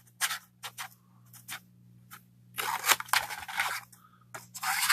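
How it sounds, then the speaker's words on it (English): Scissors snipping tabs from material for a small DIY pet bed, in short bursts of cutting strokes separated by pauses, then a longer stretch of steady rasping cuts, close and fairly quiet over a faint background hum. "Let me cut out the tabs."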